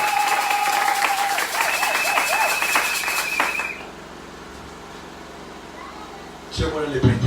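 A church congregation applauding for the Lord Jesus, a broad wash of clapping and crowd noise with some tonal sound on top, fading after a few seconds and then picking up briefly at the end.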